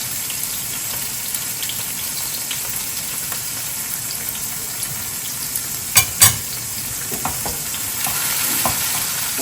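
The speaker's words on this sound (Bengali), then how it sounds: "বেশ কিছু পেঁয়াজ দিচ্ছি দিয়ে দিচ্ছি কিছু কাঁচামরিচ" Onions and green chillies fry in a pan with a loud, continuous sizzle, broken by a couple of sharp clattering stir sounds partway through.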